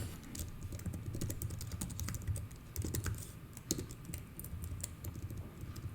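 Rapid, uneven clatter of keys on a computer keyboard, close and steady for several seconds with no talking, over faint room hum.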